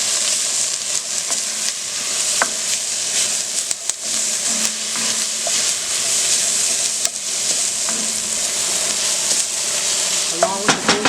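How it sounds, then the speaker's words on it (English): Six bouillon cubes being stirred into a warm pot for a creamy veggie soup, with a continuous hissing simmer and occasional scraping and clinking of the spoon against the pot, close up. "So that's 6 bouillon cubes. And I'm going to stir that in."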